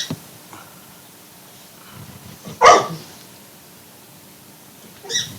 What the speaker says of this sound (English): If you'll pardon my dog, she's all excited